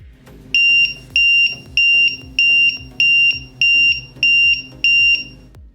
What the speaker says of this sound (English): this is how the alarm sounds when the timer has completed its countdown